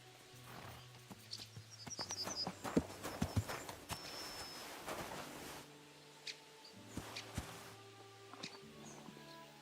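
Hooves of a horse clip-clop on the ground in Kingdom Come Deliverance 2, an uneven series of close steps with a few birds chirping faintly in the background.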